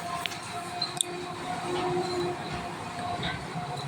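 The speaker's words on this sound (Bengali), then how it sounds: "এখন ট্রেন আসছে।" A train pulls into a crowded station platform where pilgrims wait, a steady rumbling with faint clanks and a brief squeal of wheels, moderately distant under the murmur of the crowd.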